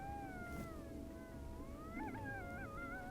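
Faint, distant coyotes howl with wavering, yipping, quavering notes that overlap and warble, heard far away in a quiet outdoor setting in Colorado.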